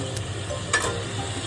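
Soft sizzle of prawns frying in oil in a pan, with a brief stir or scrape midway, close and quiet over a low steady hum.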